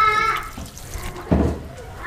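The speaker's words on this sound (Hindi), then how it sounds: "पानी शामिल करते हैं।" Water poured into a cooking pot of spinach with whole cumin in a village-style kitchen, a short splashing gush that rises suddenly near the end over a faint background murmur.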